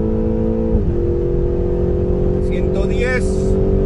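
A 2015 BMW X6M accelerates down a track straight, its engine drone steady and loud from inside the cabin with a drop in pitch at a gear change, then climbing again while a person talks over it.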